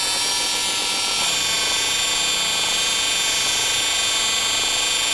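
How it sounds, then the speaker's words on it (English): A Mirka polishing machine whirs with a steady, high-pitched drone as it buffs automotive car paint, running continuously and loud at close range with no voices. "Start polishing with low RPMs and a little bit of pressure."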